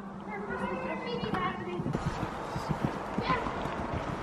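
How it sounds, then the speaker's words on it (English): Horse being ridden in a riding lesson, hooves clip-clopping in an uneven rhythm close by, with voices talking over the footfalls. "Storm's a perfect size horse."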